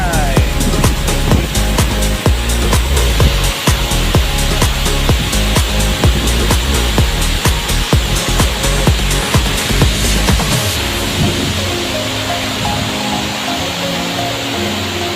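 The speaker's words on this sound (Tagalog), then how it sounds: "the Kapuka Falls of Lamyawan, Saragagabo, Oriental" Roaring rush of Kapuka Falls, a tall waterfall in Barangay Lamiawan, Caraga, Davao Oriental, Philippines, a dense continuous wash of falling water close by and loud, steady throughout with no break.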